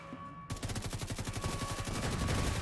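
Rapid automatic gunfire from the video game The Division 2 erupts after a brief quiet start, a steady, loud stream of evenly spaced shots running to the end.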